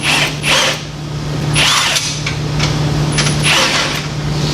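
A ratchet on a longer extension turns a bolt during a car's A-arm installation, giving loud, steady rapid clicking with several swells of effort under a constant low hum close by.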